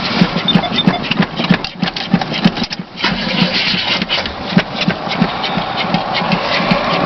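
Cold engine cranking in loud repeated chugs, stumbling and then catching into a rough, uneven run, close and loud with no talk.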